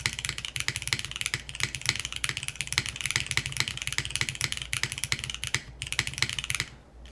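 Rapid typing on a Finn 60XT mechanical keyboard fitted with an aluminum top, dense clacky keystrokes in a fast continuous stream, close and crisp, pausing briefly near the end.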